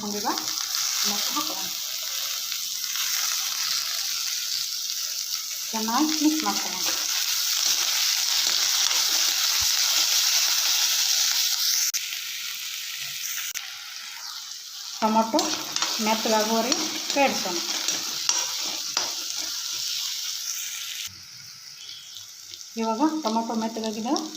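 Tomatoes stirred into a hyacinth bean curry in a frying pan give steady sizzling and frying with scraping stir strokes. The sound runs continuously for the whole stretch, close and moderately loud, with someone talking in Kannada over parts of it.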